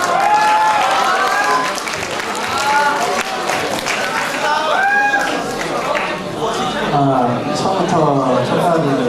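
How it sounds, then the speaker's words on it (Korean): High school students clap and cheer for their principal in a lively crowd, with bursts of excited voices and shouting rising over the steady applause. "교장선생님 나오실 때 박수로 리액션 좀 해드릴까요?"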